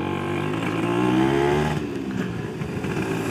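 A Vespa scooter engine hums steadily while being ridden, a close, continuous drone with a faint pitch rise and fall and no voices.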